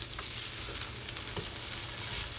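Tofu sizzles on an outdoor grill with a steady, close frying hiss and a few faint clicks and scrapes mixed in.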